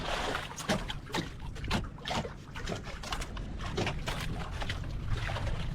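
Waves slapping against a small river fishing boat in strong wind, a series of irregular splashes and knocks close by, fairly faint, with no talk.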